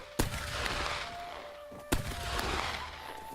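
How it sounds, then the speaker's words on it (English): Two sharp gunshots ring out about two seconds apart in the World War II video game Rising Sun, set during an attack on Kyoto, over a steady background rumble of battle. "Let's everyone fire at will."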